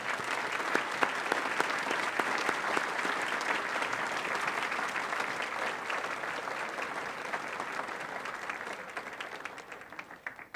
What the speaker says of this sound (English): Please join me in congratulating them with a round of applause.